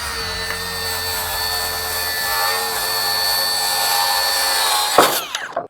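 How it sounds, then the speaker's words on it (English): A power saw cuts through an exterior lumber board with a steady, close, high whine that runs for several seconds before ending in a sharp clatter as the cut finishes. "Hate those saws."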